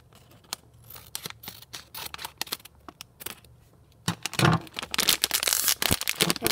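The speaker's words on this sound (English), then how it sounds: "So I'm going to open this one with scissors." Scissors snip and crinkle through a sealed plastic blind-bag toy package, with scattered sharp cuts that grow into a denser burst of cutting and rustling, close up and without talk.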